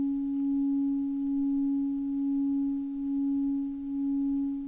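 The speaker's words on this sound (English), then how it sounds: "you can hear the tone being modulated in intensity" Synthesizer sine tone modulated by a sine-wave LFO tremolo, a steady pure pitch whose loudness swells and dips slowly and regularly, soft and alone.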